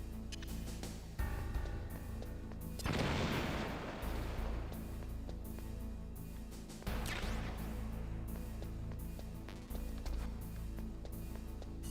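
C4 charges detonating in a game on a Nintendo Switch, with two heavy booming blasts a few seconds apart over a constant loud bed of game sound.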